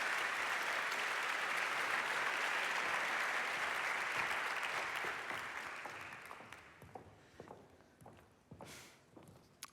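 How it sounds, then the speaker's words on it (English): Conference audience at a global health opening session applauds loudly and steadily, then the clapping thins out into scattered individual claps and fades away near the end. "A big applause"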